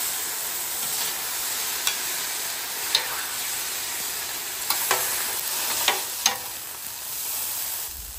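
Steak juices sizzle on a hot griddle while a spatula scrapes the surface. The hiss is steady and bright, broken by sharp scraping clicks, close and fairly quiet.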